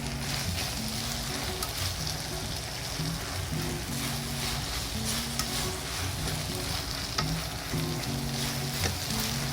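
Yakisoba noodles sizzle and hiss as they are stir-fried in a pan, a continuous loud frying crackle with the rhythmic scrape and toss of stirring running throughout, no voices.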